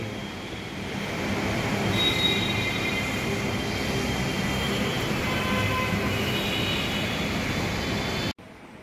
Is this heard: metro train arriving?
yes